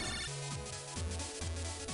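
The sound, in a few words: phone ringing in the video game Mega Man Battle Network 3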